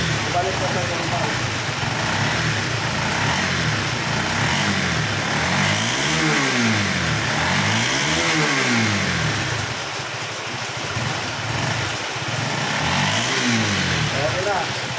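A Honda CBR150 v3 motorcycle engine runs steadily after an electrical fault is fixed, rising in several distinct revs and falling back to a loud, close idle, with people talking over it.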